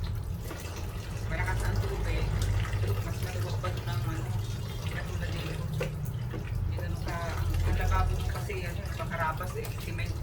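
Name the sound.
strong water running from tap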